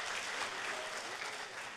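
An audience at a cryptocurrency event in Korea breaks into steady, dense applause that holds at an even, fairly loud level throughout, with no speech over it.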